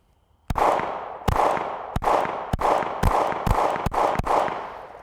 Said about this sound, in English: the MC9 in general is a very, very nice shooting pistol